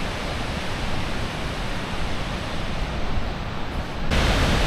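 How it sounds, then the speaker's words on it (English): Godafoss, the Waterfall of the Gods in Iceland, roars as a steady broadband rush of falling water, loud and continuous, swelling slightly heavier near the end with no voices. "This is Godafoss, or the Waterfall of the Gods"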